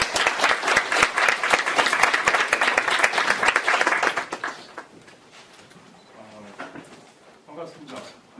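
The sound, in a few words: audience applause for a speaker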